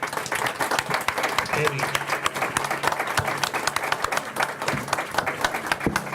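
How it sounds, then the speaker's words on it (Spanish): An audience applauds for the writer Ray Loriga, a steady patter of many hands at moderate distance that keeps going without a break, with a low voice murmuring underneath. "les pido un aplauso para uno de los mejores escritores de la lengua"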